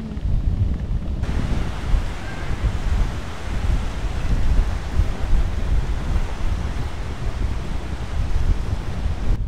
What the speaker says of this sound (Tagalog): May hangin, may alon eh.